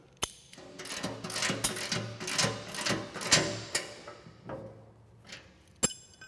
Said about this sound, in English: we're going to go ahead and tighten it up with our ratchet and wrench assembly